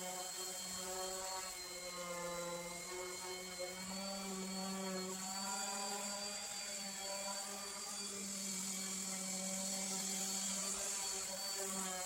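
An exterior wood finish is sanded back with 120-grit sandpaper, giving a steady, quiet droning whine that holds an even pitch throughout, with no talking.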